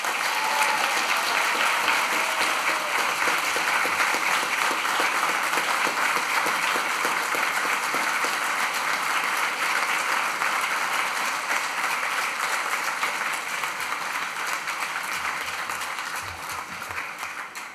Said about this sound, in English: celebrate your own personal achievements by raising the roof with applause